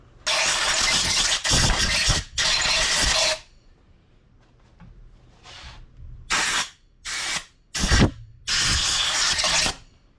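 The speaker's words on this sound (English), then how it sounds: "hit that with some compressed air" Repeated bursts of compressed air blast across a Honda Goldwing cylinder head after porting, loud broadband hissing in several long and short blasts with brief quiet gaps between.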